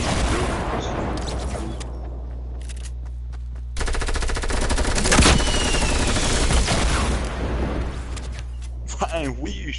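Video game gunfire, sustained machine-gun bursts and single shots over a steady low hum, fairly loud, with voices talking at times.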